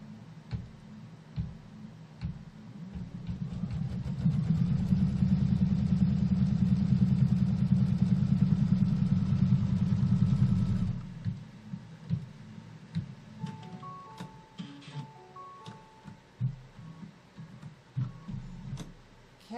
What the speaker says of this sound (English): put the hoop back on the machine, use the stylus, and let's tack this piece of fabric down